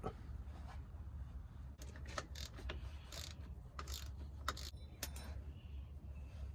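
A ratchet wrench working a 13mm bolt out of a 1997 Jeep Cherokee during a speedometer gear replacement, with quiet intermittent clicking strokes and metallic taps over a low steady hum.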